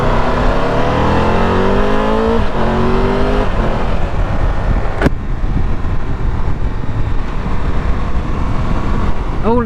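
Engine of a BMW S1000XR or Triumph Tiger 1200 Rally Pro motorcycle rising in pitch under throttle while riding, with steady loud wind rush throughout and gear-change dips, no talk.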